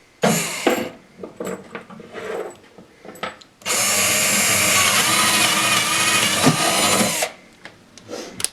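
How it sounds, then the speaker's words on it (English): Power drill boring a hole: a few short trigger bursts, then a loud, steady whine that runs for several seconds before stopping, close and alone with no voices. "so let me drill the next hole."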